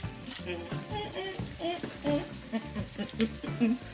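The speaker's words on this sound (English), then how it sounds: "Stir it on up and stir it in." Caramelized Brussels sprouts pasta with chickpeas being stirred and sizzling in a pan, close and steady, with scraping stir strokes and soft frying crackle running throughout under music.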